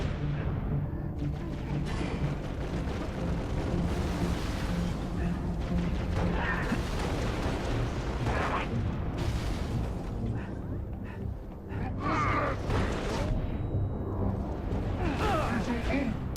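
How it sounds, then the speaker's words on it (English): A fuel rod cannon fires in the Halo Reach video game, its heavy blasts coming again and again through dense, continuous battle noise with no clear pauses. "that fuel rod cannon is intense"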